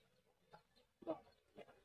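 Silkie chickens kept in a cage give soft, sparse clucks, a few faint short calls scattered across a quiet moment.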